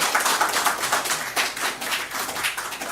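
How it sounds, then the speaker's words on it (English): An audience applauds at a formal presidency event in Ghana, steady dense clapping from many hands that holds for several seconds at moderate level with no talk over it. "They deserve a round of applause."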